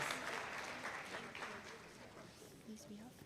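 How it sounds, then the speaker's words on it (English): Audience applause at a university alumni lecture, a faint, fading round of clapping heard at a distance in a large room, with voices murmuring through it. "Shall we give them a round of applause?"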